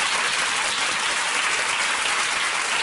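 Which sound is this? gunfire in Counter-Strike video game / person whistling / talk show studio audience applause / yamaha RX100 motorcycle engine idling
talk show studio audience applause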